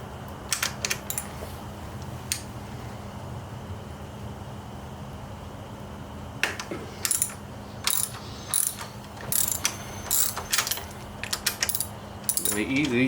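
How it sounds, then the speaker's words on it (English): Ratchet wrench working a 14 mm rear frame bolt loose on a Kawasaki Z900 during a frame slider install, a faint steady background hum broken by several bursts of quick clicking, growing busier toward the end. "Now we're going to go loosen this back bolt."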